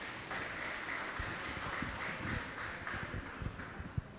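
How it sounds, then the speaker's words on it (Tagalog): Church congregation applauding for the Lord during a worship service, a steady dense patter of clapping sustained throughout at moderate distance, with a few sharper claps standing out near the end. "Sa nga pong malakas na palakpak para sa ating Panginoon."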